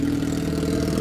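A Honda CB1000 motorcycle engine rumbles steadily and loudly up close, with a deep, even throb and no voices.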